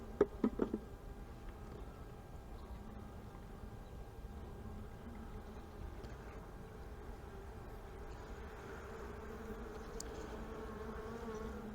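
A faint, steady buzzing of honey bees inside a hive continues throughout, with a few brief clicks at the start and a quiet background hum.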